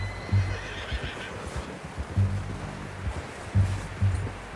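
A horse in Red Dead Redemption 2 gives several loud, close whinnies and snorts between hoof clip-clops, over a soft background wash like surf.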